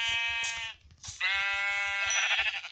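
Sheep in the video game Minecraft give two loud, nasal bleats in close succession, each a wavering baa. The second is longer and rougher and rises at its end, with no speech.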